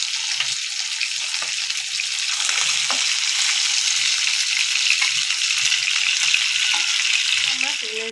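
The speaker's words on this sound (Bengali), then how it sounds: "ভেজে নেবো। একে একে মাছগুলোকে উল্টিয়ে দেবো।" Pabda fish frying in hot oil in a pan, a loud, steady, crackling sizzle that runs unbroken for several seconds, close up, with a few faint clinks and no talking.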